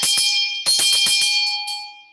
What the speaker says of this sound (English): Listen for the bell to come back.